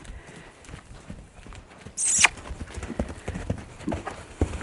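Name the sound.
horse cantering in a round yard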